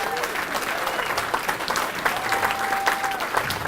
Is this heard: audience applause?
yes